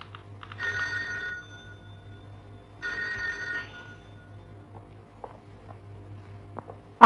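Telephone ringing in a 1976 Indonesian film, two separate bursts of bell ringing a couple of seconds apart over a low steady hum, followed by faint footsteps and small knocks.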